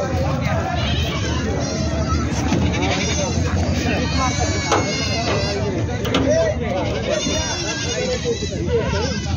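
Goats bleat repeatedly at the crowded Vasmat goat market, loud and close among a dense din of many animals and people talking throughout.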